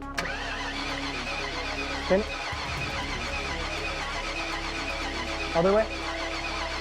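A Mustang engine cranks and tries to catch on its first start attempt while its distributor timing is being adjusted, giving a steady mechanical drone with short bursts, close by as people talk over it.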